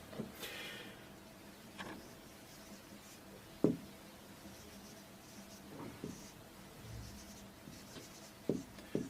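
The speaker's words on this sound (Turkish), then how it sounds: "Yazalım." Quiet scratching of handwriting, probably pen on paper, with faint intermittent strokes and small taps close by, no talk.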